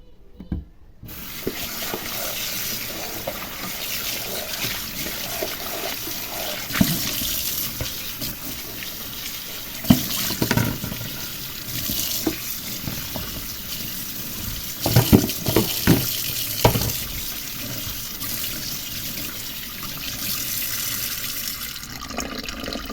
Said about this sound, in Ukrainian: мию миску і цибулю перемиваю